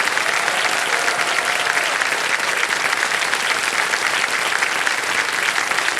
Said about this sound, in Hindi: तालियां बजती रहे अनन्या के लिए